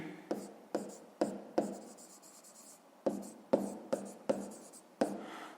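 Hand writing on paper while working a fifth-grade maths exercise: a series of short, quiet scratchy pen strokes in irregular bursts, about ten distinct marks with brief pauses between, close and alone.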